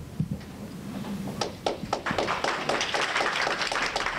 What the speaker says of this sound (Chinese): 才接下麦克风，现场掌声马上响起